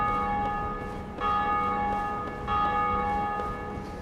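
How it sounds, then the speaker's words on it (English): A church bell tolls in the Dark Souls video game, three resonant strikes spaced roughly a second and a quarter apart, each ringing out with a long shimmering overtone decay, moderately loud with no voices. "Ring that bell that we keep hearing."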